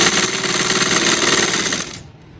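A sewing machine running a fine stitch through fabric, a fast loud mechanical whir with rapid regular pulses that stops abruptly near the end, close up with no talking.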